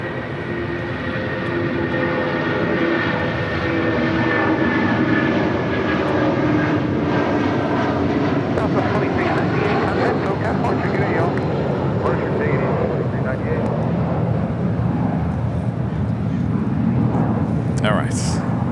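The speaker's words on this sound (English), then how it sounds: "That was United Airlines, flight 2279 heading to Denver, 757-300." A United Airlines Boeing 757-300 bound for Denver departs LAX, its engines a loud, sustained roar with a rising whine, with a voice talking over it.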